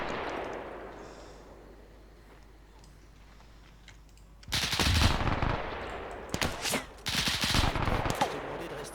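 Gunfire in the video game ArmA 3 during a World War II liberation mission: a quiet stretch breaks into loud bursts of automatic fire, with several rapid volleys and brief pauses between them.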